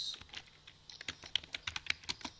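Keys clacking on a computer keyboard in a quiet room, a quick run of close, distinct taps picking up speed and getting louder toward the end, with no voice.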